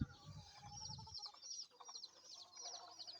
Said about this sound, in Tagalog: Pagpakaon sa tang manok.